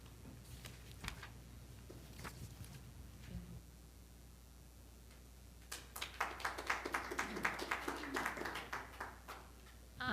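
A few people clap at a school board meeting, faint and distant in a quiet room. Scattered taps come early, then a brief burst of applause starts about halfway through and continues to the end.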